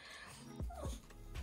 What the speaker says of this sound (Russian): Да, собака.